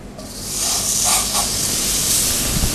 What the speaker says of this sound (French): J'ai ma poêle qui est chaude, le foie gras.